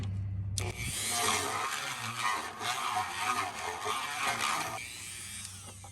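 A drill runs at slow speed through plastic on a first-generation Chevy Avalanche, a loud, steady whine grinding on for several seconds, starting abruptly and trailing off near the end, with a low hum underneath.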